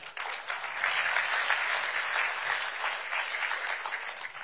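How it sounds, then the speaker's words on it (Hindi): An audience applauds at the WITT 2025 conference session. Sustained, dense clapping runs steadily throughout, with no speech over it. "तो तारीफ के लिए एक बार सबसे ताली बजवा दीजिए।"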